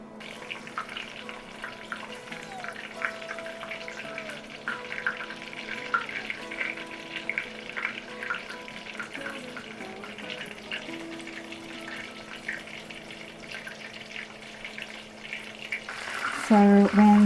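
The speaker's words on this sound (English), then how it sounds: "So I will deep fry the cutlet." Pork cutlet stuffed with cheese and spinach deep frying in oil at 170 degrees, a steady soft bubbling sizzle running throughout, close and moderate in level, with a louder burst of crackling near the end.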